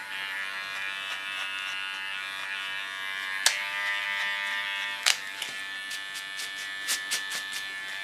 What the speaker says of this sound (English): Now first clean this up with my small clipper and then I'm going to the longer side